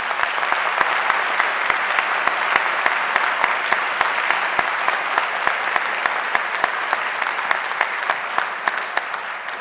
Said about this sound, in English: Please join in a round of applause for these distinguished members of our community.